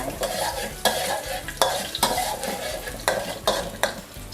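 Chopped garlic fried over medium heat in a pan, a steady close sizzle punctuated by regular scraping stir strokes, with no talking.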